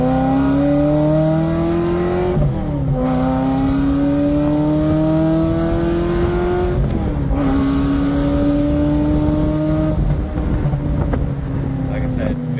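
A 1994 Ferrari 348 Spyder's exhaust roars loudly and steadily, its engine note climbing through several gears with brief dips at each shift, close up and continuous with wind buffeting.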